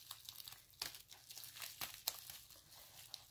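Tape being pulled and pressed onto scrunched paper: faint, close crinkling and rustling with a few sharp tearing snaps spaced across a few seconds, no voice.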